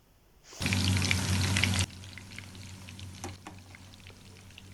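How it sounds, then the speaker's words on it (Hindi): Koftas drop into half a cup of hot oil in a pan, setting off a loud burst of sizzling for about a second before it settles into a quieter, steady frying hiss with a few faint clinks. "पैन में लेंगे हाफ़ कप ऑयल और इनको तब तक फ्राई करेंगे जब तक ये लाइट गोल्डन ना हो जाएं"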